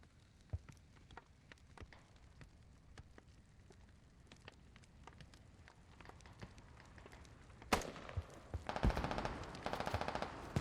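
Video game battle gunfire between Canadian armor and Chinese anti-tank defenses in Tallil. Faint, distant single shots pop sporadically before louder, denser bursts of rapid automatic fire take over toward the end.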